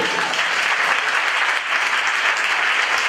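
A church congregation at a pastors' teaching service gives loud, sustained applause, a dense and even clapping from many hands that fills the whole moment with no talk over it.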